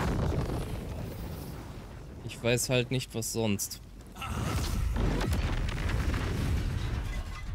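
Fireball spell explosions in the fantasy role-playing game Baldur's Gate 3 roar as loud, rumbling blasts at the start and again in the second half, with someone speaking German between them.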